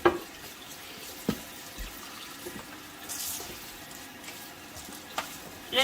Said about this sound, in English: But what I like to do is give the turkey a nice little rinse.